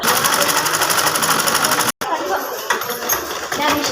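A sewing machine stitching a luggage bag runs in a loud, fast, continuous mechanical whir, close by. It stops for an instant and then starts again, with faint talk in the background.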